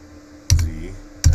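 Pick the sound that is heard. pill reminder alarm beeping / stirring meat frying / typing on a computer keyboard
typing on a computer keyboard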